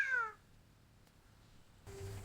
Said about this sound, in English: The cat meows when it wants milk.